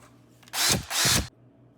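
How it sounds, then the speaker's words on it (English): A power drill whirs in two short, close bursts, each about a third of a second long, drilling a hole in a handle, with a quiet hum before and after. "Now just go ahead and drill a hole in the handle part"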